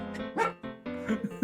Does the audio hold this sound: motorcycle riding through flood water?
no